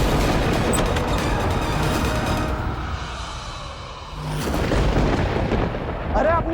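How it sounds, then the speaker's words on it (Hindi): A strong storm sound effect from a TV drama, with a loud, continuous rumble of thunder and wind that dips briefly in the middle, then swells again into a deep boom. "बहुत तेज आंधी तूफान है।"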